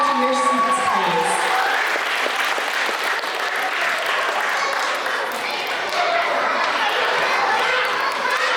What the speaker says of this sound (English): Let's do one last big round of applause for all of our students